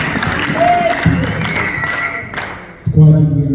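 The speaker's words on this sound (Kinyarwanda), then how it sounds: "Niyo mpamvu tuyihaye amashyi." A church congregation claps and applauds together, a dense spread of hand claps amid crowd noise, with a voice talking over it and a louder burst near the end.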